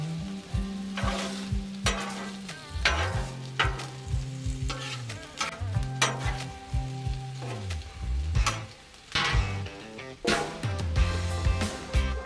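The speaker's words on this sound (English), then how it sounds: "There, our wings are starting to get some browning now." Honey BBQ chicken wings sizzle and crackle on a Blackstone flat-top griddle, a steady close frying hiss broken by scraping and stirring as the wings are moved around, with no talking.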